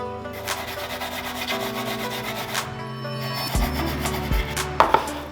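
Steady scrubbing and rubbing on a metal motorcycle gas tank, continuous and close, with a few knocks and clunks toward the end.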